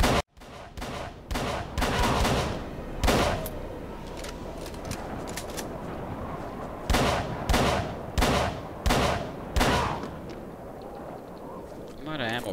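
Gunfire in the Call of Cthulhu video game: a string of sharp, loud shots and bursts, some closely spaced, over a steady background ambience, with a voice talking in between.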